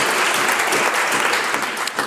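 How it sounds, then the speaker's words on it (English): Legislators in a provincial legislature chamber applaud together, a dense, steady wash of clapping that stays loud and even from start to finish with no voices rising above it. "the minister can stand up and all her colleagues can clap"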